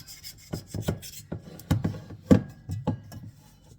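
Bread dough being scraped up from underneath on a kitchen counter gives a series of short rasping scrapes and soft knocks in an uneven rhythm, close and fairly quiet, with no speech.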